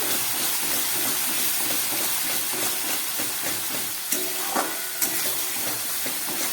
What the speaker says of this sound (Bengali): এবার দিয়ে দিচ্ছি পেস্ট করা 1 চামচ মতো টমেটো